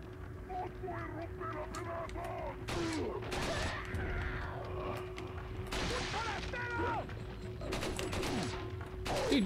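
Sharp gunshots in Resident Evil 4 Separate Ways ring out in scattered single bursts amid a busy scene, with a steady hum beneath and a voice talking over the action.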